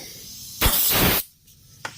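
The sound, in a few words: compressed air blowgun blowing dust out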